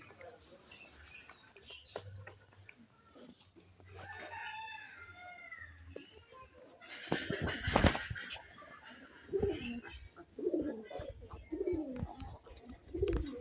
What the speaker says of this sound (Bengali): সবগুলো কবুতর সারিবদ্ধভাবে খাওয়া দাওয়া করতেছে, দেখতে পাচ্ছেন সবাই।